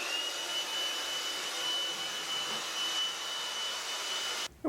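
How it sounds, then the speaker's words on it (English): A Makita blower/vac running in vacuum mode, sucking up metal chips in a shop: a steady, loud whining airflow roar with a faint high tone, holding constant before a brief dip and a burst of change at the very end. "We're going to use it as a vacuum."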